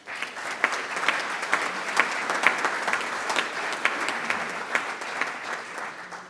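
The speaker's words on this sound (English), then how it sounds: "Now let's give them all a round of applause." Audience applause at a Rotary club meeting, a steady patter of many hands clapping at moderate distance, fairly soft and sustained throughout.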